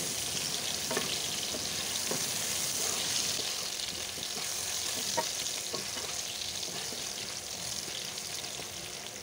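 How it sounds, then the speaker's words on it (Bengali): Potatoes fry in oil in a home kitchen pan while cooking egg curry, a steady dense sizzle running throughout with faint scattered ticks of stirring, no voices. "আলুগুলো আমি সুন্দর করে ভেজে নেব।"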